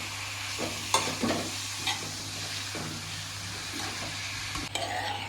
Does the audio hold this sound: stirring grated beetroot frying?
yes